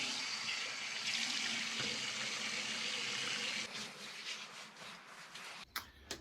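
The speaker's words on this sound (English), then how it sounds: "I'm gonna rinse off" Water from a tap runs steadily as a shaver rinses off after a pass, a broad close hiss that thins and breaks up near the end with a few splashes.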